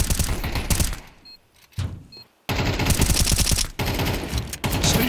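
Pistol fire in a pro Counter-Strike match at IEM Kraków, Five-SeveNs trading with Tech-9s: loud, rapid bursts of close shots broken by short silent gaps, with no voices.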